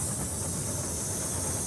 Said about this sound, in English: we've let enough steam into the cylinders To get the train moving.